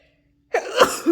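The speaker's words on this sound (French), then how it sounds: "J'arrête pas d'éternuer en ce moment." A woman with a cold gives a single sharp sneeze after a moment of silence, close and fairly loud, with a short voiced tail.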